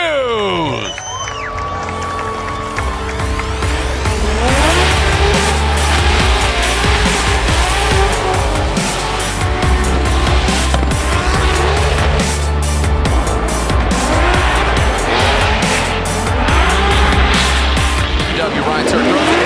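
Formula Drift cars including a BMW sliding at a St. Louis event, tires squealing loudly and continuously over roaring engines and gear changes, with a crowd and announcer commentary heard underneath.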